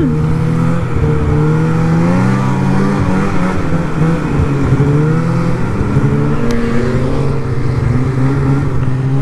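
A snowmobile, an older sled, roars fast over bumpy cornfield ground, its engine note rising and falling in a continuous loud whine for the whole stretch with no talking.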